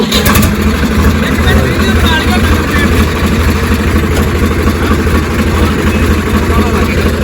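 A Swaraj 855 tractor engine runs steadily and loudly up close, its low pulsing rumble continuous throughout with voices faintly underneath.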